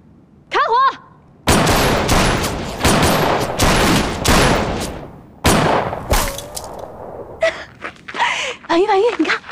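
Rifle volleys at target practice in a wartime training scene: several loud, close bursts of gunfire in quick succession, with a couple of cries and exclaiming voices between the shots.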